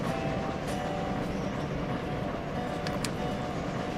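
A locomotive running in the train video game Railroader, a steady low rumble and hum without a break, with a couple of faint brief clicks.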